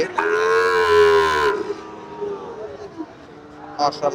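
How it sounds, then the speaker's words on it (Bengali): Cattle at a livestock market on the India–Bangladesh border give a loud, drawn-out moo close by, followed by background crowd murmur and brief voices. "খুবই সুন্দর ফিগার এই গরুগুলো"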